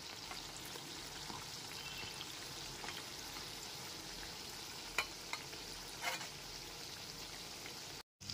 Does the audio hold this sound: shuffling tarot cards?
no